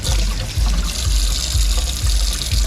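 A saltwater aquarium part being rinsed under running water: a continuous, close splashing and trickling stream with small fluctuations, steady throughout and with no voices.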